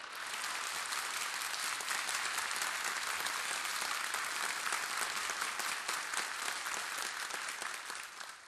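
Concert audience applause in a radio studio before a Turkish classical music performance, steady dense clapping throughout, fading slightly at the end.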